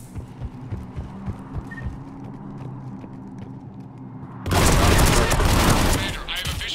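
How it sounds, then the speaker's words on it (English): Cannon fire in the sci-fi action game Mass Effect 3 starts as rhythmic low thumps under a hum, then erupts into a loud, sustained barrage of heavy blasts for about two seconds before easing. "The cannon fire is clearing the way."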